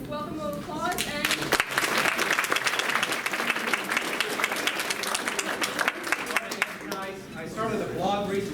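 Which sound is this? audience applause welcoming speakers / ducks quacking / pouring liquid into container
audience applause welcoming speakers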